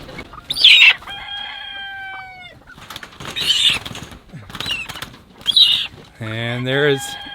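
Several hens in an aviary cluck and squawk in short bursts close by, with a rising, drawn-out cackle near the end and some wing flapping.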